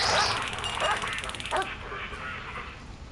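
A dog barks in the Prison Architect video game, with a few sharp yaps near the beginning and middle over a busy game-sound backdrop.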